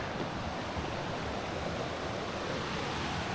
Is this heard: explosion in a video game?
no